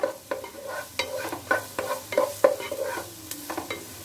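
Finely chopped green chilli being stirred in a hot pan for bhindi masala: rhythmic spatula scrapes and taps repeat roughly every half second over a continuous close sizzle, with no talking.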